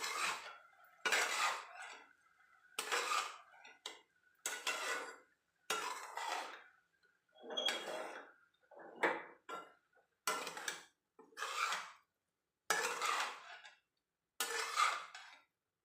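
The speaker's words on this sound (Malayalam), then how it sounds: "ഒന്ന് ഇളക്കി കൊടുക്കുക." A spoon stirs crushed coconut into an okra and green gram stir-fry in a pan, with about a dozen separate scraping strokes, each clattering against the metal and broken by brief silences.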